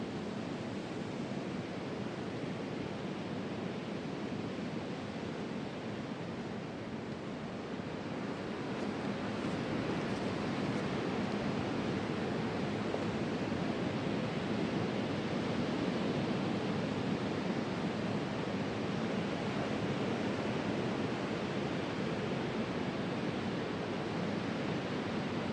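Surf at Nunggalan Beach on Bali's south coast, a steady broadband wash of waves rolling in without a break, full and fairly loud throughout, with a little wind, no talk.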